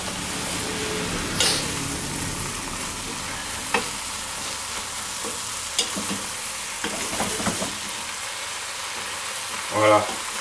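Tartiflette ingredients stirred as they fry in a pan: a steady close sizzle with a few sharp utensil scrapes and knocks, the loudest near the end.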